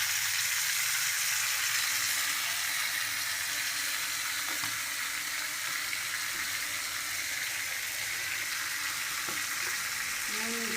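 Taro leaves being stirred as they fry in a pan with turmeric and salt, a continuous close hiss and sizzle with occasional soft scraping knocks of the spoon, no talking.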